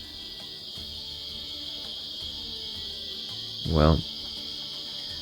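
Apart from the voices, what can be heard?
cicadas buzzing close by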